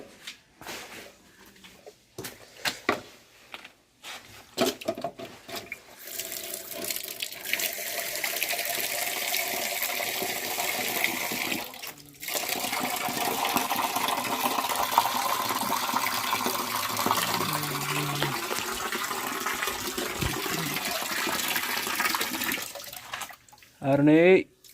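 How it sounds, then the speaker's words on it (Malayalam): Water poured and running steadily for a long stretch, starting after some scattered handling noises and brief pauses, close by, ending abruptly with a few clunks; a voice is faintly present at times. "ഇവിടെ ചെറിയ വെള്ളം എടുത്തിട്ട് കൊടുക്കാം"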